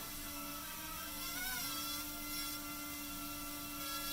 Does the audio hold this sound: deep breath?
no